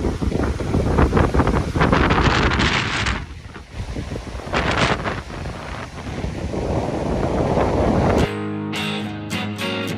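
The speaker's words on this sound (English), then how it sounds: "we found some rideable waves on Lake Champlain" Wind and waves on Lake Champlain, heavy wind buffeting the microphone over rolling surf, loud and roaring, easing briefly midway before ending in a shift to a thinner, steadier tone.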